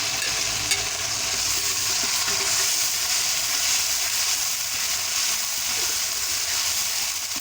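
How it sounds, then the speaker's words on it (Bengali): A ground paste of ginger, garlic, cumin and cardamom frying in hot oil gives a loud, steady close sizzle with stirring scrapes throughout, and nobody speaks. "আমি একসঙ্গে বাটা মশলাটা দিয়ে দিচ্ছি।"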